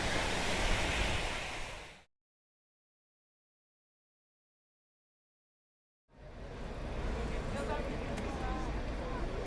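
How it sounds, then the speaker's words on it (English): Atlantic Ocean surf rolls onto the coast of Nazaré as a loud, broad wash of crashing waves, cut off by a few seconds of total silence before the roar returns. "So you can see and listen to the Atlantic coming in right now to the coast of Nazaré."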